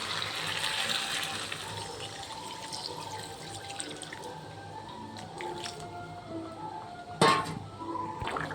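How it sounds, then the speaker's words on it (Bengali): Water poured into a cooking pan of fried potatoes and pointed gourd for a fish curry, a steady close gushing splash that fades into quieter bubbling, with a sharp clatter near the end. "এবার দিয়ে দেবো পরিমাণ মতো জল।"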